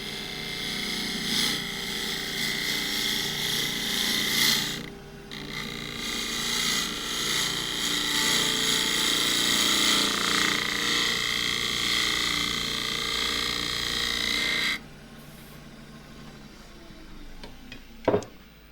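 A wood lathe spins at 1900 rpm while a gouge makes a shear cut on a spindle-turned piece, a steady whirring hum with a rushing cutting hiss that stops abruptly, leaving quiet with a sharp knock near the end.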